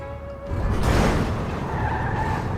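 A car in Grand Theft Auto accelerates and skids, a sharp tire squeal rising out of a quieter engine tone, then a sustained loud scrubbing slide with engine drone underneath.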